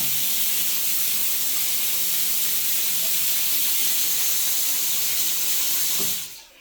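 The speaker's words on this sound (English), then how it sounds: "I'm shooting water clear out there into the cell" Strong jet of water spraying from a shower in a wet bath, a steady loud broadband hiss that holds for about six seconds and then cuts off.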